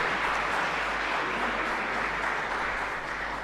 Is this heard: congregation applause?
yes